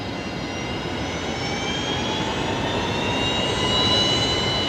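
A Qantas Boeing 737 at Brisbane Airport spools up for its takeoff roll, a broad steady jet engine roar with high whining tones that grows gradually louder over a few seconds.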